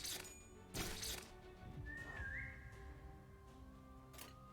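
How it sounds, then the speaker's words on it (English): A faint whistled tone rises and holds briefly in the video game Limbus Company, set over a busy bed of game music and sound effects. "The fuck was that whistling?"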